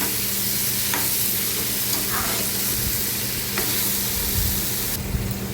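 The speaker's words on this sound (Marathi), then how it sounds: "आता हे सगळं मिक्स करून घेऊया" Masala ground with tomato is stirred and mixed in a frying pan for a brinjal, potato and Bombay duck curry: a steady, close sizzle with a few soft scrapes.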